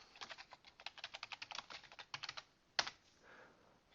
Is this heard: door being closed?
no